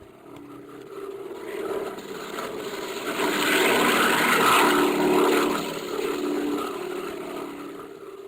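A propeller airplane drones steadily overhead as a radio drama effect, the engine hum swelling louder in the middle and then easing slightly, with no voices over it.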